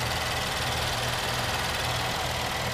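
A 2015 Chevrolet Traverse LT's 3.6 liter V6 idles under the open hood, a steady, even, close-up engine hum with a low rhythmic pulse and no talking.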